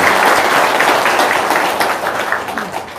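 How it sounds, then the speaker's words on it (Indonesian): Loud, dense audience applause at an evening seminar, a crowd clapping hard in a steady burst that tapers off slightly toward the end. "Tepuk tangan dulu dong, yang kencang."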